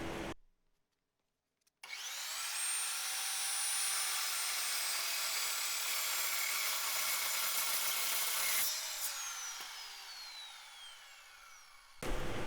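A power tool cuts small metal bracket pieces for a homemade lever arm GHD foot plate, a loud steady grinding whine holding for about seven seconds before winding down, with no talking.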